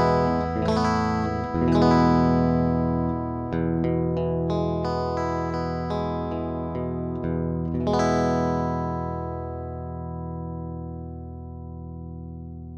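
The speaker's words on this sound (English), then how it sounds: "play a little guitar for you" Electric guitar played clean through an Augioth GC12 cable with strummed chords and picked single notes, ringing out and sustaining into a long fade, no voices.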